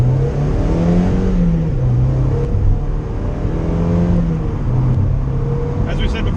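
1991 Mazda Miata with its stock exhaust, the engine humming and revving up and down in a few gentle swells, fairly close and steady throughout.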